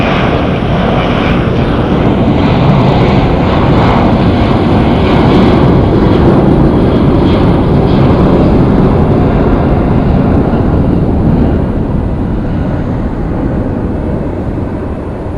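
A jet airliner roars down runway 25 Left at Phoenix Sky Harbor Airport on takeoff, a loud, sustained engine rumble filling the whole stretch with no voices.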